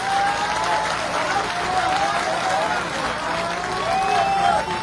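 A crowd claps steadily at a carnival gathering, a dense, continuous wash of applause with voices mixed in throughout.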